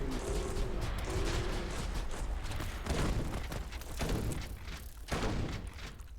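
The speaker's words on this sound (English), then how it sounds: "shoot a volley and then sort of guide the missiles to the target" A missile weapon in the Cosmic Dawn video game fires volleys, giving a dense run of thumping launches and booming blasts that swell in repeated bursts over constant game noise, with no talk.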